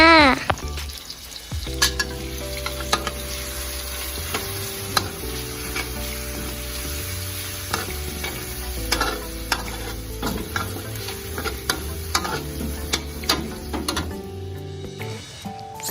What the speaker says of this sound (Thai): ใส่น้ำมันให้พอประมาณ ตักพริกกระเทียมใส่กระทะเลยจ้า